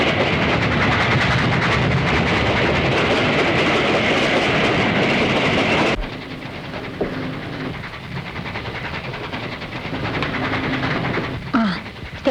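A train rolling on rails as it nears a station, with a loud steady rumble that drops to a quieter, uneven running noise about halfway through, plus brief squeals and clanks near the end.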